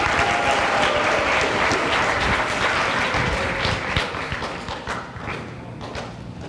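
A conference audience applauds to welcome speaker Mark Harrison at a UC Davis lecture on DIY drones, steady dense clapping from a full room that gradually thins and fades toward the end.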